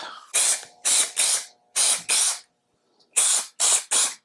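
Close, loud bursts of wood finish sprayed from a can onto a wooden bud vase, in quick pairs and triplets, with a long silent pause midway.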